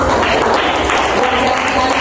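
A room of people clapping together at a youth discussion session, a dense continuous wash of applause over a low background rumble, filling the short moment without any voices.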